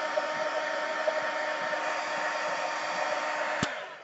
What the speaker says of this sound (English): I'm just going to take my heat gun and I just very quickly go over